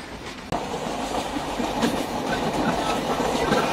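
The Sundarban Express rumbles along with a steady rhythmic clatter of wheels on rail joints, loud and close from inside a carriage. A sharp knock comes early on, and no one speaks.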